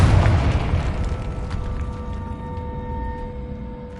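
A fiery explosion spell bursts in a fantasy wizarding video game, opening with a loud booming blast that decays into a rumbling, crackling tail with lingering ringing tones, and no talk over it.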